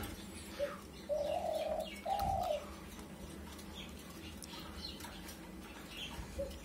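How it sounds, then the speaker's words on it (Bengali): Spotted dove cooing among caged breeding birds: a couple of soft mid-pitched coos close together, followed by a faint one, over a quiet background with other distant bird calls. "ওইদিকে তিলা গুহু ডাকতেছে।"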